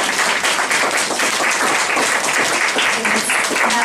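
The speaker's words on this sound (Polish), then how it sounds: "Wielkie brawa, proszę państwa." Audience applause for a student choir from a voice laboratory at a book launch, a dense, steady wash of clapping filling the whole stretch at close range with no break.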